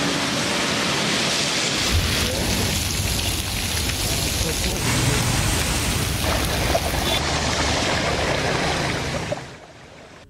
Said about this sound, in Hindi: इस्लामाबाद में मूसलाधार बारिश ने मौसम बदल डाला, बादल जमकर बरसे।